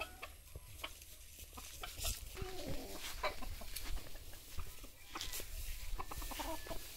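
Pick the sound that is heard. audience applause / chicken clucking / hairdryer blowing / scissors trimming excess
chicken clucking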